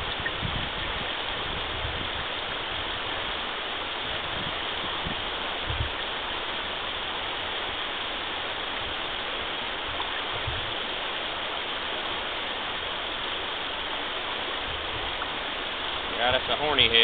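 Steady broadband rush of flowing water on the Hiwassee River, a trout-fishing spot below Webb Store, filling the whole stretch evenly and continuously with a slight shift near the end.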